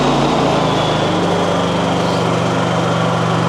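Portable generator engine on eco throttle, a steady buzzing hum that settles into an even drone after a brief shift at the start, close and loud with no speech.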